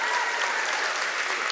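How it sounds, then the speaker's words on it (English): Crowd at a 2023 talent show applauding its gold sponsors: a dense, steady wash of many hands clapping at once, loud and sustained with no gaps. "Let's give them a round of applause."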